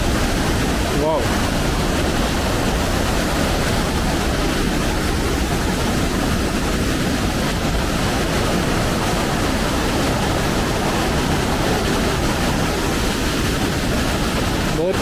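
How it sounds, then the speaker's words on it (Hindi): A fast-flowing mountain river in the Kumrat valley rushes with a loud, constant broadband roar that holds without a break for the whole stretch, with no voices over it. "बहुत तेज़ फ्लो है पानी का"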